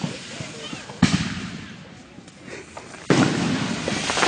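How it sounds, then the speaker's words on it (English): Fireworks burst in two loud, sharp booms about two seconds apart, each followed by crackling and a fading rumble, with quieter pops and ambient noise between them. "It does a big ass fireworks."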